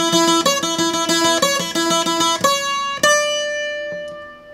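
A requinto guitar plays the opening section of a song in a quick run of bright plucked notes, then lets a final few notes ring out and fade, alone and close.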